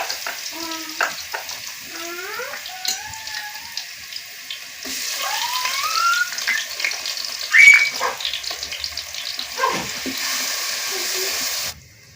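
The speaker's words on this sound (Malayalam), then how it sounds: "ചൂടായ എണ്ണയിലേക്ക് വെളുത്തുള്ളി ചതച്ചതും ഇഞ്ചി ചതച്ചതും ചേർത്ത് കൊടുക്കുക" Crushed garlic and ginger fry in hot oil for a Kerala-style sardine masala, giving a steady hiss broken by intermittent squeaky, chirping tones, with no speech heard.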